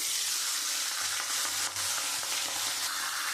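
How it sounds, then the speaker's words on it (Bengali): Salted, turmeric-rubbed rohu fish heads fry in hot oil for muri ghonto, producing a loud, continuous hiss and spatter close by, with no voices. "তেলটা গরম হয়ে গেছে এবার আমি মাছের মাথাগুলো দিয়ে দেবো"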